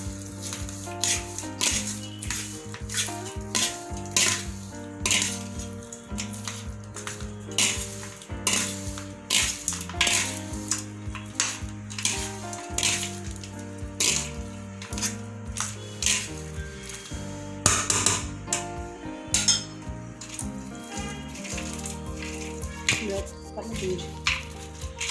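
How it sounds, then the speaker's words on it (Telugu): A spoon scrapes and clatters in a pan as tempering is mixed into tamarind rice, with repeated uneven metallic scraping and stirring strokes, close and fairly loud throughout, while music plays alongside. "దాన్ని కూడా రైస్లో వేసేసి బాగా కలుపుకోవాలి."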